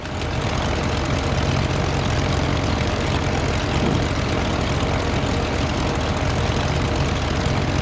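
Steady, continuous drone of a propeller aircraft engine in the Prepar3d flight simulator, loud and unbroken throughout with no talking.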